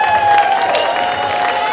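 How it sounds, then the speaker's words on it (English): Audience applause and cheering in a crowded venue where people sit on the floor, a dense wash of clapping with crowd noise and some voices mixed in throughout. "I want to hear a round of applause for yourselves."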